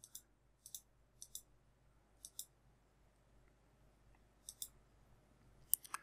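Computer mouse clicks while tiles are picked in an isometric 3D maze puzzle editor: faint, sharp clicks come singly and in quick pairs, scattered across a quiet room.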